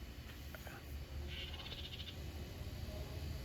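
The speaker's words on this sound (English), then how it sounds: "He's all up there chirping and mad at something." A woodpecker chirps in a quick, repeated burst of high notes, fairly faint against steady outdoor background hum.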